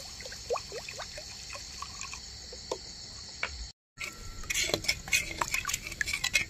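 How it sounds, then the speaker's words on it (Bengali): Water poured into a homemade spice mixture in a kitchen, a light trickling and splashing over a steady cricket-like background hum, with a brief gap and louder liquid sounds afterward. "এই মশলাতে জল দিয়ে দিচ্ছি।"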